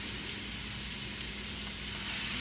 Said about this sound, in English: We're gonna sear these backstrap pieces in there real quick.